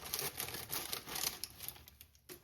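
Scissors snip open a paper cake mix package for sugar-free peanut butter cookies, giving faint, close crinkling and crisp cutting that runs for a couple of seconds.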